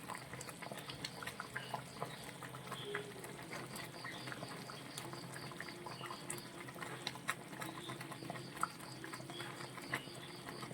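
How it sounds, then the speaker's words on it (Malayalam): A pot of pearlspot fish curry with coconut and mango simmering on the stove, a soft continuous bubbling and light patter of boiling liquid, fairly quiet throughout with no talk. "നമ്മുടെ കറി തിളച്ച് ആയിട്ടുണ്ട്"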